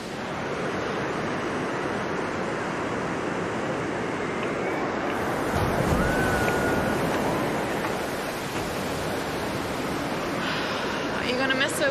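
Steady ocean surf with rolling waves breaking in the background, a continuous broadband wash rising slightly midway, with faint talk and wind over the water.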